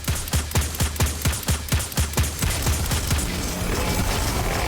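Boss blast in an MMO video game, a flashbang knockback hitting the player character amid a rapid series of sharp booming impacts, loud and close, fading into a dense rumbling wash.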